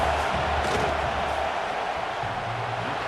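A dense, roaring stadium crowd at a Boise State versus Notre Dame college football game keeps up a loud, sustained wall of noise with scattered shouts on fourth down as the kicker lines up a field goal.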